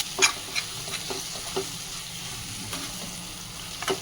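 Grated raw mango frying and being stirred in a pan for Andhra-style mango pulihora, a soft continuous sizzle broken by a few spatula scrapes and taps, close and without talk.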